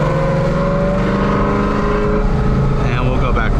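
Ford Mustang exhaust with American Racing headers and a Borla Spitfire X pipe, switched to track mode, a loud, steady deep engine drone close to the microphone with a voice speaking over it.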